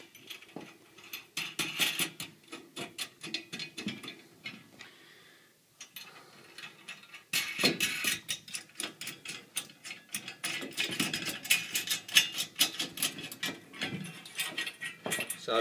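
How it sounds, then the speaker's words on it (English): Nuts being threaded by hand onto the carriage bolts of a PureWave Quantum 6600 antenna mounting kit on a pipe: rapid, fine metallic ratcheting clicks in fast bursts, close and fairly faint, with a short pause midway. "thread these nuts on the carriage bolts"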